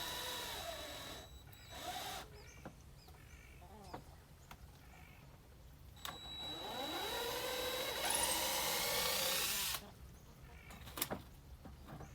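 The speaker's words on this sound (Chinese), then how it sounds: "首先要用钻头给要上长钉子的木头上先钻个孔" Power drill boring pilot holes into wood for an insect-net frame on a raised vegetable bed, several whirring bursts starting and stopping, one longer rising run, fairly close amid handling clatter.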